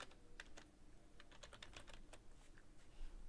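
Quiet, close typing on a computer keyboard as a new folder name is entered, a quick irregular patter of light key clicks over a soft room hiss, with no talking.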